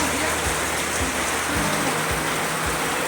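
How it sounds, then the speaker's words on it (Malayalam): Heavy rain pours steadily outdoors on a rainy day, a dense continuous hiss with a few low thumps, fairly loud and unbroken throughout. "അപ്പോഴും പുറത്ത് നല്ല മഴയായിരുന്നു."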